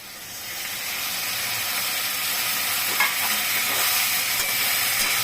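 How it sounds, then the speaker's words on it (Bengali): Lentil dumplings and water going into a pan of pointed gourd curry, giving a steady, fairly loud sizzling hiss with bubbling that holds throughout, with a small splash or clink near the middle. "অল্প একটু জল দিব"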